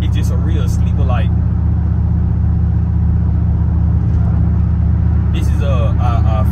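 An old family sedan's engine rumbles steadily and loudly up close at a car show in Benton, Arkansas, a deep continuous drone with people talking over it throughout.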